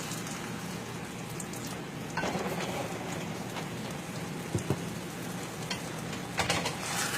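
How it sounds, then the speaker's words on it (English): Beef broth hits sizzling sausage orzo in a pan, giving a steady soft crackle and hiss with a few faint stirring scrapes, close and quiet. "I'm going to go ahead and add a little bit more of the beef broth."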